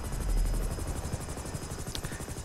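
FH-1 Hunter attack helicopter flying in GTA V, a loud, close rotor chop with steady rapid blade thumps over a constant engine whine.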